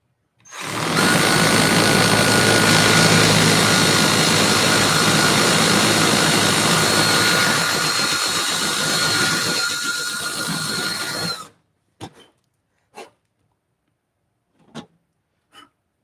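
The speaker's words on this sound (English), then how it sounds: "then a new hole I'm gonna drill in here." An electric drill bores a hole into a PLC enclosure box, a loud steady whine running for about eleven seconds before stopping, followed by a few short clicks and knocks nearby.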